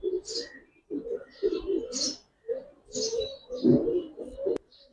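Pigeons cooing at a pigeon farm keeping Giribaz and coloured breeds, low rolling coos repeating in bursts close by, with short bird calls and a voice talking between them.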